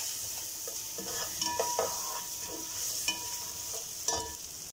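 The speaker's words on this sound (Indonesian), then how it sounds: "Nah, kita tumis bawang putih," Garlic and shallots are stir-fried in a pan, making a soft crackling sizzle with repeated scrapes and light utensil taps.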